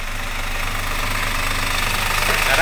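A Daihatsu Xenia car engine idling during an oil and oil-filter change, giving a steady, even mechanical hum with a faint knocking texture, close and constant throughout.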